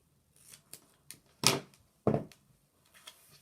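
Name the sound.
scissors cutting duct tape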